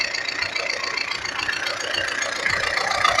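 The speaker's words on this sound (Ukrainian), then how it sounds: "можливо, чуєте по звукові, що підсікають на другому клапанах" The diesel engine of an MTZ-80 tractor idling with a rapid, regular metallic valve ticking over its steady rumble, close and continuous.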